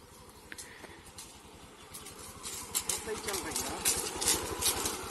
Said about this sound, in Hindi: इतनी उबड़ खाबड़ रास्ता में बिना एक्सीलेटर की चल रही है बाइक